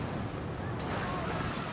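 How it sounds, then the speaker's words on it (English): Water waves surge and splash around a boat in the video game Monster Hunter World, a continuous dense wash of broadband noise with a brighter swell partway through, close and steady. "Water."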